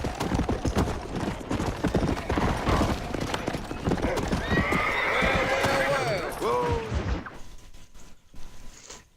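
Several horses in a video game clop along at a steady pace, and loud neighs and whinnies rise midway through. Busy game sounds and voices fill the background before everything fades to quiet.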